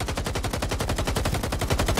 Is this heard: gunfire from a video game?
yes